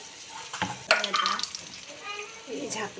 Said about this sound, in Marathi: ह्या प्लेटच्या वरती पाणी टाकत असते थोडं.